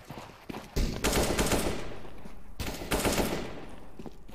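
Rapid automatic gunfire from the Counter-Strike: Global Offensive video game, two dense sustained bursts, each lasting over a second, loud and close with a brief gap between them.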